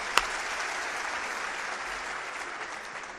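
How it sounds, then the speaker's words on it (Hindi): Steady, dense applause from a large crowd, sustained throughout with an even roar of many hands clapping. "आप एक बार तालियां बजा दें।"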